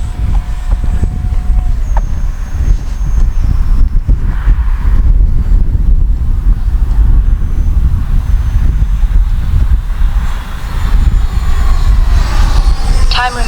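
An Arrows RC Viper 50mm electric ducted-fan model jet flies in gusty wind, its thin fan whine faint and drifting beneath heavy microphone wind buffeting, growing closer near the end.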